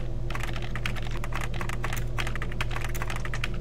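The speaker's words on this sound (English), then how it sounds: "How am I typing from over here?" Rapid computer-keyboard typing in the Roblox psychological horror game Transparent, a dense run of key clicks over a steady low electrical hum, no speech.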